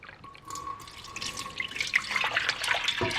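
Milk being poured into a measuring container for pudding, a steady liquid trickle and splashing that builds in level and brightness, close up with no talk.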